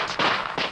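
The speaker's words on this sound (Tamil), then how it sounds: "யாரு அது இந்த நேரத்துல வெடி வெடிக்கிறது?" Firecrackers bursting near a house at night, around 2 a.m.: three sharp, loud cracks, one long blast followed by two shorter ones in quick succession, with no talking.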